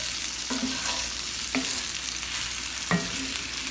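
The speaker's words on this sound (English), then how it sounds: "Now we're just going to let things kind of saute a little bit." Sausage, onions and mushrooms sauté in a pan, a steady sizzle underneath with a few distinct scraping stirs of a utensil against the pan, close and moderately loud, no talking.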